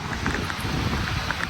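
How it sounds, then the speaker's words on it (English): Light rain begins falling outdoors beside a parked Toyota Avalon, a steady broadband hiss with soft scattered patters and some wind rumble, close and continuous with no talking. "starting to rain"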